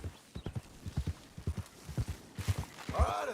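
Rhythmic clip-clop of a horse's hooves while riding in the game Red Dead Redemption 2, steady near footfalls with a brief whinny-like burst near the end.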